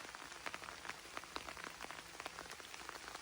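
Steady rain falling in a forest in the Kyiv region, a dense soft patter of drops on leaves with no voices, even and continuous throughout.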